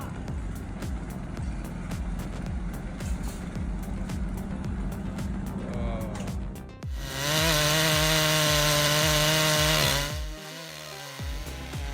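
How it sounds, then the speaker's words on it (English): A Stihl MS661 chainsaw cuts through a tree, loud and close, first with steady engine drone and rhythmic chain strokes, then revving to a sustained high-pitched scream for about three seconds before dropping back. "This guy's a total pro with that Stihl MS661."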